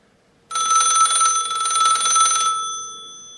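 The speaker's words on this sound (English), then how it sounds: "so that is the ringer of the phone right now" An electronic landline telephone ringer sounds for an incoming call, a loud, close trilling burst that starts abruptly, holds for about two seconds and then fades out, with no voices over it.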